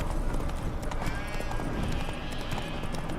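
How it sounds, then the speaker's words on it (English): Roach, Geralt's horse in The Witcher 3, clip-clops steadily with a brief whinny over a constant outdoor ambience, hooves close and continuous throughout. "Spooking my horse. Roach doesn't like ghosts."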